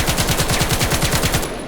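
A full-auto weapon in the video game Weapons of Vail fires a rapid, even stream of about a dozen shots, loud and close, ending abruptly with a brief tail.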